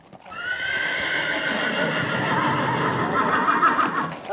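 Several horses neigh and their hooves clatter throughout a cavalry charge reenactment at the Castell de Sant Ferran fortress in Figueres. The whinnies are close and sustained over a constant rumble of movement.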